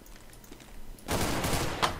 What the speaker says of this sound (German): Ich glaube, da kommen Schüsse aus Katas, Chris.